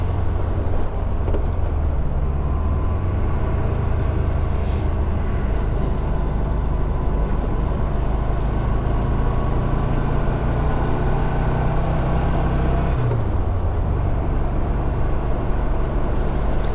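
Small open Austin Healey sports car, driven by a tall man, giving a steady rumbling engine drone with wind buffeting throughout, loud and close, shifting slightly in pitch as it cruises along, without talking.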